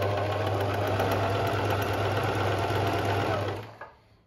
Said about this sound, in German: Also Nähmaschine funktioniert, wie man sieht.